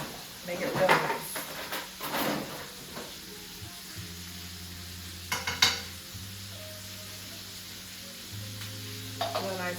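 Butter and garlic sizzle in a frying pan beside boudin-stuffed pork, with steady frying hiss, scraping stirs and clatter, and a low hum running underneath while a person talks at times.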